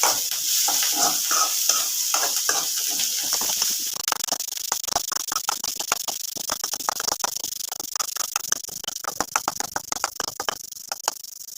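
Spinach leaves sizzle in a hot pan while a spatula stirs them, producing a steady frying hiss broken by a dense run of rapid scraping clicks that grows busier toward the end.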